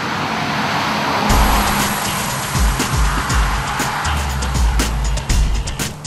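Subaru Impreza 2.0 RS engine revving hard on the road, a loud continuous roar with wind and road rush. Rhythmic low thumps run under it as the car drives past.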